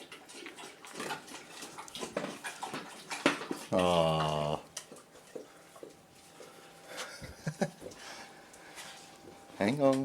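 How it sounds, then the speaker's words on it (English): A dog lapping up a drink of water, with quick rhythmic wet clicks close by, broken up by someone talking to it and a short loud voiced burst partway through. "He's not bothered, he's just having a drink of water first."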